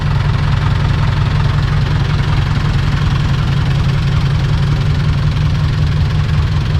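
A Nissan 90 HP engine with a loud exhaust fitted to a modified Thai farm tractor, idling with a steady heavy low rumble and rapid knocking pulse, close and unbroken throughout.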